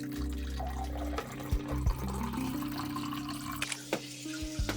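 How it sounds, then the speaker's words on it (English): Water runs and splashes steadily as an axolotl aquarium tank is filled, with a continuous gurgling flow and a few sharp knocks and clunks near the end. "but first we have to fill this tank with water."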